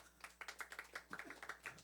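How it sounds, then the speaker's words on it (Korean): A church congregation clapping: quiet, fairly regular claps in a loose rhythm, a dozen or more in under two seconds, faint and somewhat distant. "박수하겠습니다"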